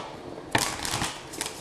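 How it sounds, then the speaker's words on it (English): Tarot cards being shuffled by hand, a quick close riffle of crisp papery flutters and taps lasting about a second after a short quiet lead-in. "Last shuffle."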